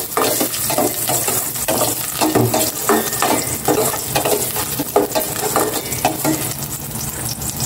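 Chopped garlic sautéing in hot cooking oil in a pan, a steady close sizzle with repeated scraping and stirring strokes throughout, no voices.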